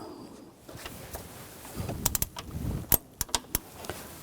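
A ratchet fitted with a T50 socket works against the hydraulic belt tensioner of a 2000-2006 BMW X5 3.0L, giving a few sharp metallic clicks and clacks near the end after some shuffling handling noise, close and moderately loud.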